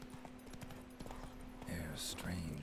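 Horse hooves clip-clopping in The Witcher 3, a steady trot of soft repeated hoofbeats over game ambience, with a voice talking throughout.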